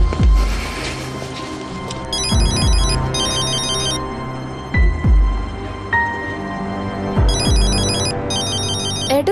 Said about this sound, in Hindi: एडम कॉल कर रहा है।